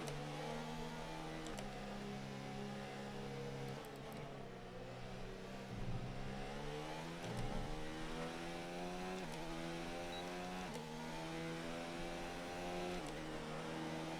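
Race car engines from the F1 2019 video game as a packed grid pulls away, several faint, droning engine tones rising and shifting together in a slipstream train, with no talk.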